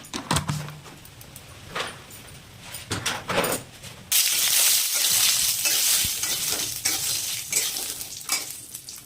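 Sun-dried lentil dumplings (badi) fry in a pan, with scattered stirring clatter first and then a loud, continuous close sizzle that lasts to the end.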